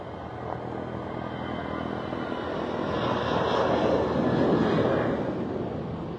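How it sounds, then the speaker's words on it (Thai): An airplane on a heart-transport mission, just touched down, gives a loud, steady broadband engine roar that swells slightly mid-clip and then eases. No voices. "ตอนนี้นะคะเครื่องบินนะคะ ก็ได้ลงเรียบร้อยแล้ว"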